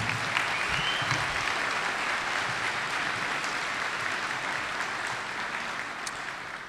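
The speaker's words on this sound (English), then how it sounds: "Let's have another applause for all they've accomplished." A large commencement audience claps warmly and continuously, a broad sustained wave of applause that holds steady and eases slightly toward the end, with a few brief cheers.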